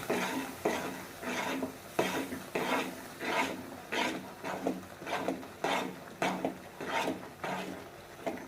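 A spatula scrapes and stirs thick ground masala paste in a pan in repeated rhythmic strokes, each a short gritty rasp, close and moderately quiet.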